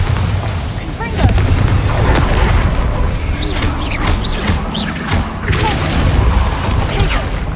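Booming spell explosions from Bombarda and Confringo in the Hogwarts Legacy video game, a dense run of deep blasts and crackling bursts one after another, loud and close throughout.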